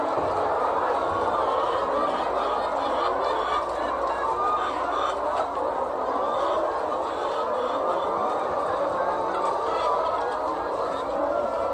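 A dense, continuous chorus of chickens calling at once on a chicken farm, loud and unbroken, like a crowded barn full of birds.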